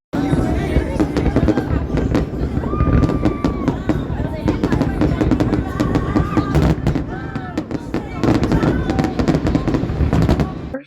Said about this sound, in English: I love fireworks on the water.